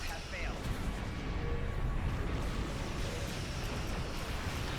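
Starship weapons fire in the Star Trek Online game forms a loud, continuous rumbling barrage that lasts the whole stretch, with a voice faintly underneath.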